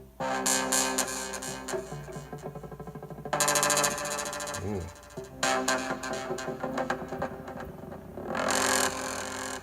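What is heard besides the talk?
ROLI Blocks synthesizer tone with glide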